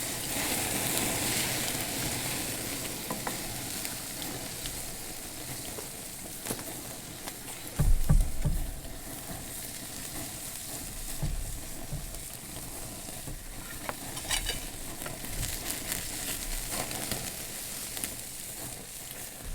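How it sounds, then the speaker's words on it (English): Leftover bacon pieces sizzling on a grill over hot coals, a steady, dense crackle and hiss filling the whole stretch, with an occasional brief knock or clatter from handling. "Got a couple pieces of bacon, so I threw those on there"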